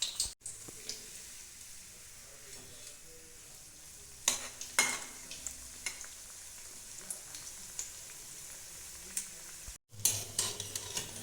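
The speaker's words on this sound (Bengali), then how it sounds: "এখন আমি প্যাটিসগুলো ভেজে নেব" Potato patties frying one at a time in hot oil in a kadai, a faint, continuous sizzle with a few sharper crackles and light clatters, and no talking.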